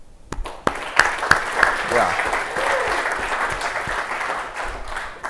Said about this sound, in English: let's give a hand for our speakers for making this event exciting and educating us today.